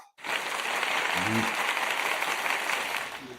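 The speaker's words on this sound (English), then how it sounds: "You can applaud." Audience applause at a Wednesday night live interview show: a steady wash of clapping hands starting abruptly and holding evenly for about three seconds, moderately distant.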